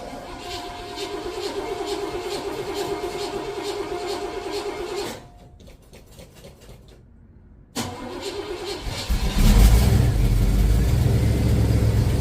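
A 1985 Oldsmobile Cutlass 442 engine idles roughly after a cold start with steady pulsing, cuts out briefly into near silence, then fires again and revs up loudly.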